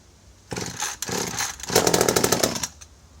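A McCulloch MAC130 vintage top handle chainsaw being pull-started with choke on, giving a few short rasping pulls and brief sputters that end in a louder, rapidly pulsing burst of near engine noise, with no talk.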